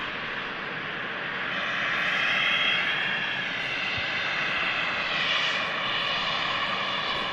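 A KLM-flight jet airliner operated by Eastern roars at Manchester Airport, its engine noise loud and steady, swelling slightly mid-way with no talk.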